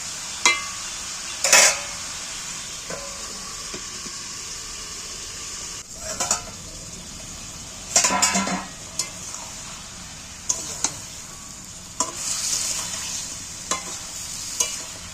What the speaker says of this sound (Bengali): মাংসটা আমি অল্প তেলের মধ্যে একটু নেড়ে নাড়াচাড়া করে চাপা দিয়ে দিই